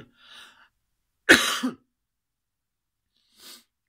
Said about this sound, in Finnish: Yskä on vaan kova meikäläisenä vielä